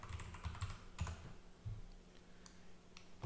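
Keys tapped on a computer keyboard in scattered, uneven clicks, close and quiet against a low steady hum, with no voices.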